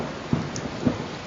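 Heavy, continuous monsoon rainfall, a steady broadband hiss with a couple of soft thuds, moderately loud and with no voices.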